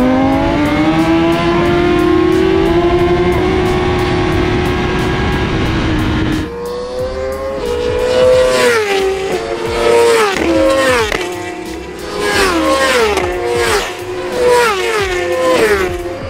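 Race cars at full speed, one engine note holding high before several cars scream past in quick succession with sharp rising and falling revs, loud and close, as one car overtakes.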